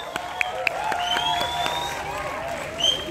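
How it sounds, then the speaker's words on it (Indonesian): Applause rises from the audience at a film gala premiere in a cinema setting, moderately loud and steady, while sustained tonal music or voices run over it. "Tepuk tangan untuk Bapak Amrit Punjabi"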